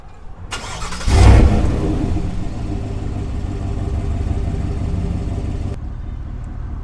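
A 2024 GMC Sierra 1500 Denali pickup fires up by remote start, a loud cranking catch and brief rev flaring before settling into a steady, deep idle rumble that continues alone until it cuts off near the end.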